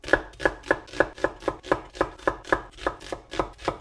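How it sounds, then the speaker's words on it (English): A knife chops red onion into chunks on a board, about a dozen crisp, evenly spaced chops landing close and clear in a steady rhythm with no talking. "I'm just going to chop it in chunks"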